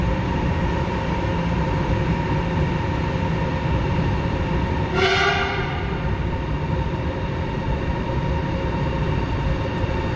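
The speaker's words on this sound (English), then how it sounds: "The high-speed rail network of China is very, very impressive." A Chinese high-speed train running at speed, a steady loud rushing rumble with a brief tonal whine passing midway; no talking.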